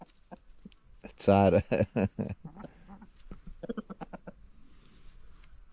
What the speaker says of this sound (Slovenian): Lejte, Petelinček